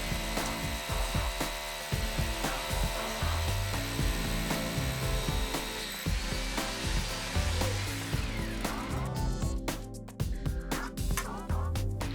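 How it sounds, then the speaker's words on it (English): An SDS hammer drill with a long bit grinds and rattles continuously up close as it bores into a wall, with gritty, uneven pulsing throughout. "Nice long SDS, best for drilling holes of this type."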